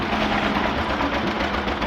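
A 1948 John Deere Model A tractor rolls along in a parade, its engine giving a steady, loud, low chugging drone up close that runs unbroken throughout.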